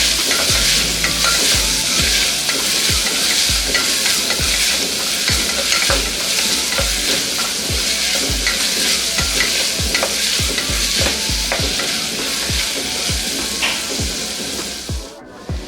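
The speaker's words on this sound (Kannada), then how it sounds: "ಈರುಳ್ಳಿ ಗೋಲ್ಡನ್ ಬ್ರೌನ್ ಬರೋ ತನಕ ಇದನ್ನ ಇದೇ ರೀತಿ ಫ್ರೈ ಮಾಡ್ಕೊಳ್ಳೋಣ." Onions and curry leaves with stems fry in hot oil, a steady close sizzle with repeated scraping stir strokes throughout, cutting off abruptly at the end.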